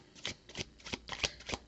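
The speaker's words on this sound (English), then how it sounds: "I promise you, I shuffled very well." Tarot cards being shuffled by hand, a rapid series of crisp riffling bursts close to the listener, repeating in an uneven rhythm with no talking.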